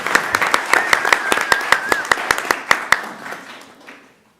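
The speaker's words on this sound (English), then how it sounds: "And burst into applause" Applause from a small audience at a college board of trustees meeting, a short burst of separate sharp claps that thins out and stops after about four seconds.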